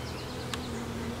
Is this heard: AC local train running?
no